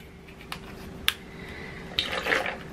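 Liquid is poured into a container, a short burst of running and splashing that swells near the end after a couple of light clicks and taps, close and moderately loud, with no talking.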